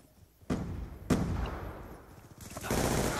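Gunfire on the Nuketown map in Black Ops 2 arrives as sharp, fairly distant bursts, with one shot, another a half-second later, then a longer volley near the end.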